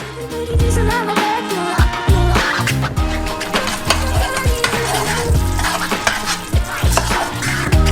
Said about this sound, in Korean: 스토브 위에 올리고 147도까지 끓이고 색소도 섞어줘요.